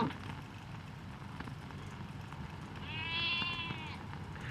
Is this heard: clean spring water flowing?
no